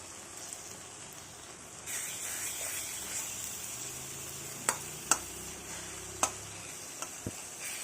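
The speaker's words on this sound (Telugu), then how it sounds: "ఆకులు టమాటాలు అన్నీ బాగా ఫ్రై చేయండి" Fenugreek leaves and tomatoes frying in a pan, a soft steady sizzle with a few sharp clicks and taps of a stirring utensil toward the end.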